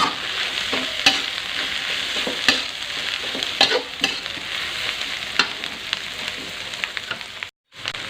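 Vegetables being stir-fried in a hot pan for mie goreng tek tek with jengkol, a steady loud sizzle broken by repeated sharp scrapes and clacks of the spatula, with a brief gap of silence near the end.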